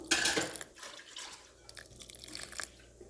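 Water is poured over rinsed flattened rice (aval) in a bowl, a close splashing pour at first that eases into softer dribbles and drips, with no speech.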